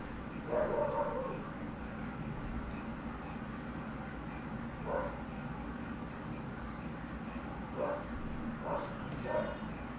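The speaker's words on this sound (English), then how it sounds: "my dog is barking at something out on the road" A dog outdoors barks at something out on the road, a few faint, distant woofs heard once early and again in a short cluster near the end, over a steady background hum.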